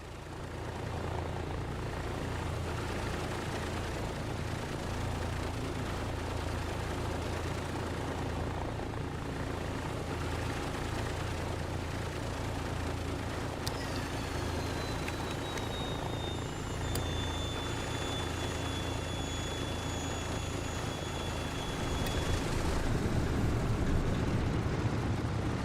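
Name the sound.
Douglas DC-3 left engine starting and warming up, MSFS 2024 video game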